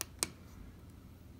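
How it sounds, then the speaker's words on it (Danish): Two sharp clicks sound as the enter key is pressed on a Nemo 96 HD power meter, the second louder, against a quiet background with no speech. "Og trykker enter."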